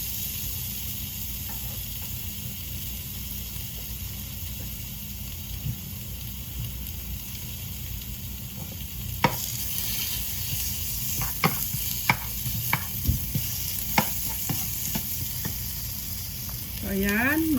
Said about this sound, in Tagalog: Gisa muna natin yung ating bawang